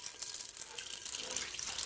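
Warm soapy water runs from a sink tap while a HexClad pan is washed, a steady close hiss of flowing water with faint splashing, no voices.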